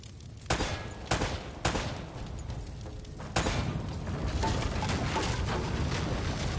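Several sharp gunshots in a PlayStation 4 video game, fired at lamps: four distinct loud reports spaced about half a second apart, then a rumbling, noisy stretch of game ambience with no talk.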